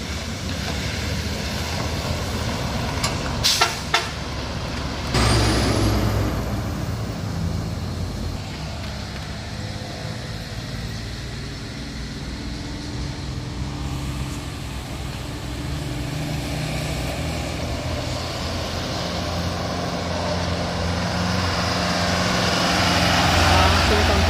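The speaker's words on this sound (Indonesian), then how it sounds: "Ini dia truk Hino" A Hino Pertamina tanker truck drives on a mountain road at Puncak Menggasing. A continuous engine rumble builds louder toward the end, with brief sharp noises early on and someone talking over it.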